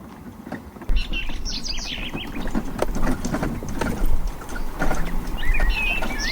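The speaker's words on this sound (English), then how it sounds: "As we can hear, the birds are singing." Birds chirp and sing along a wooded river trail by the River Maun, short thin calls coming and going at a moderate distance over a continuous low rumbling and rattling of a mobility scooter moving along the path.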